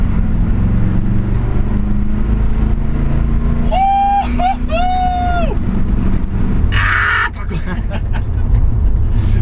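A 1970 Chevrolet C10 pickup pulls away in town, its engine rumbling steadily and close throughout, with a rising whine-like tone partway through and a brief high burst near the end.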